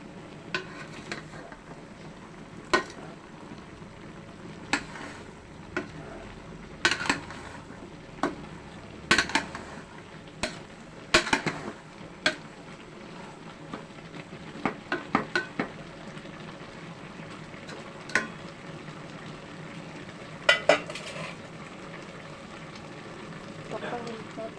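Ginataang gabi, taro simmering in coconut milk, is stirred in a cooking pot, with a soft bubbling bed broken by scattered sharp clinks and scrapes of a utensil against the pot.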